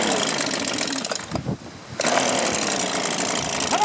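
A 2-cycle engine with a freshly rebuilt barrel-type carburetor being pull-started, a raspy buzzing run that drops briefly to a quieter pause, then resumes loud and steady close by.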